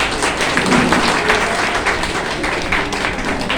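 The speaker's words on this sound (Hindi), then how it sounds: "सर के लिए जोरदार ताली।" An audience at a DXN meeting in a hotel hall claps loudly, a dense, sustained burst of many hands filling the room without pause.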